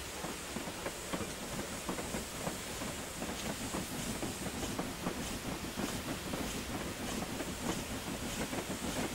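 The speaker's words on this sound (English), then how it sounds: "Oh, we switched to rickety old track." Steel wheels clatter in a steady clickety-clack rhythm over rickety old branch-line track in Train Simulator 2019, a continuous rolling rumble with hissing, close and sustained with no talk.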